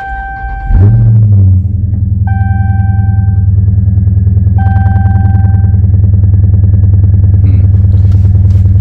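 A 2022 Dodge Challenger 1320 Scat Pack with a Diablo tune cranks and catches, settling into a loud, steady deep idle rumble while a chime beeps intermittently over it.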